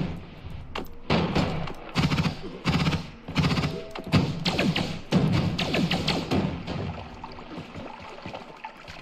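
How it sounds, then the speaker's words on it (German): Rapid gunfire rattles in the video game Noita, dense bursts of shots and thumps repeating loudly and almost continuously for several seconds. "Hab ich gerade eine Shotgun gehört?"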